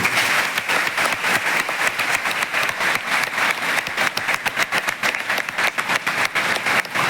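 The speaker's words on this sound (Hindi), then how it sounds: "तो बच्चों, अगर आपको वास्तव में मजा आया हो तो एक अंतिम बार ताली बजा दीजिए" A hall full of school children applauding together, with dense, steady clapping that carries on loudly and evenly throughout, no voices standing out over it.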